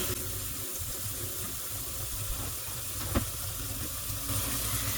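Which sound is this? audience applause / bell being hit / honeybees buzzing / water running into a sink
water running into a sink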